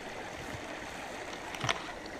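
A small brook running over bedrock near Todmorden, a soft, steady trickling wash with one brief splash near the end, faint and close.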